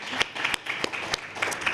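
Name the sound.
audience applause for the debaters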